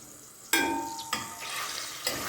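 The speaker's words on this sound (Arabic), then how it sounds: "هقلب التوم كده يا جماعه لغايه ما احس ان ابتدى ياخد اللون كده اهو لون ذهبي" Garlic fried and stirred in hot oil in a home kitchen makes sharp sizzling bursts as the spoon turns it, three distinct surges of frying hiss at close range.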